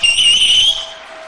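A person whistles with two or three fingers in the mouth, one loud, shrill sustained note that wavers slightly, then cuts off, leaving a faint tail.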